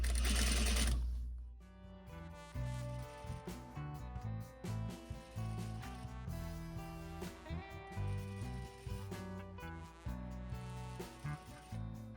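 A sewing machine sews a zipper onto a pillow with a steady, moderately quiet mechanical whir after a brief loud bump at the start, carrying on without talk.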